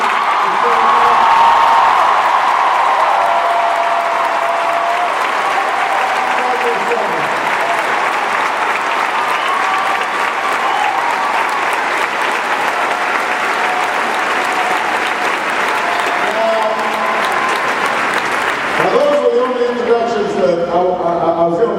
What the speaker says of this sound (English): Please give a big round of applause to the next First Lady of the United States